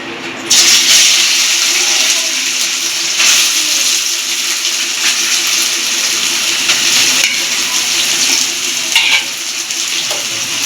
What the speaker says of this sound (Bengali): এটাকে এখন ভাজা ভাজা করে নেব